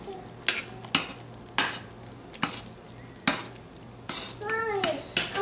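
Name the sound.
stirring hot process patchouli soap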